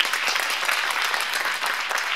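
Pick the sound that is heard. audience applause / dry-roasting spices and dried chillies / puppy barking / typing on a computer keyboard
audience applause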